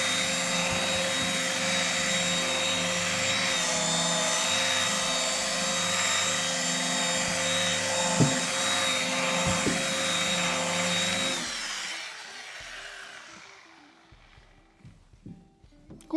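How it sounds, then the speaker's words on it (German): A machine polisher buffs a coating to a gloss, giving a steady, loud motor whine with a constant hum for about eleven seconds before it spins down and fades out. "dann tun wir das auf Glanz ein bisschen polieren"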